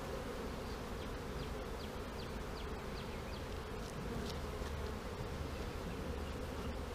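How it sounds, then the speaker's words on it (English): Honeybees swarm and fly around an opened hive during a Snelgrove hive split, making a constant dense buzzing hum with brief passing insect whines over it. "If you tear into any hive, they're going to be flying around."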